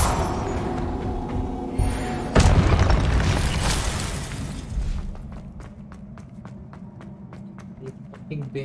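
Confringo fire spell in Hogwarts Legacy bursting with a loud boom and crackling debris, followed by quick footsteps and a softer ticking rhythm, with a voice speaking over it.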